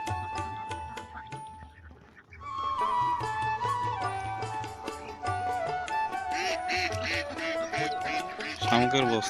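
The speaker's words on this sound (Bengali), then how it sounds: "ব্ল্যাক হাঁস।" Black ducks quacking at a duck farm, a dense chorus of overlapping calls that grows busier partway through and stays close and loud, with some mixed background noise.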